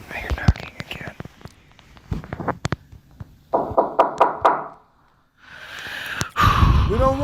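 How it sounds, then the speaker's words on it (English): Knocking in an old house: a quick run of about five evenly spaced knocks partway through, set among scattered taps, whispering and breathy voices. "I hear knocking again."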